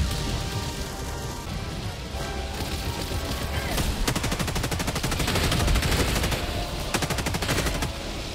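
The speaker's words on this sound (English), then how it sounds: "Let the laser handle it." Rapid, sustained automatic weapon fire from the Helldivers II shooter game, a dense, continuous crackle of shots close and loud over a noisy battlefield backdrop, with no voices.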